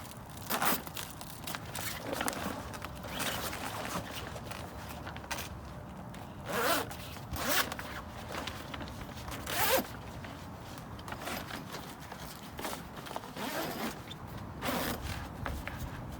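Repeated zipping sounds as the canvas zipper of a TopperLift Nomad truck camper is pulled in several long strokes, with rustling fabric between them, close by.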